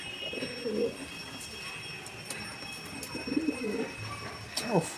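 Madras breeding pigeons in a loft give two clear bouts of deep, rolling cooing, moderately close, with a faint steady hum and a few soft rustles between them.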